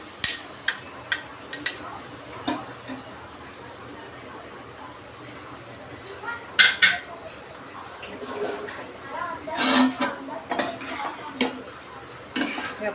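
Bhindi rassa, an okra curry with tamarind pulp, is stirred in a pan with a spoon, giving repeated sharp scrapes and clinks in an irregular rhythm over a soft wet background, close by, with a voice talking at times.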